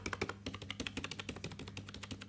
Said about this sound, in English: The typing is quite smooth.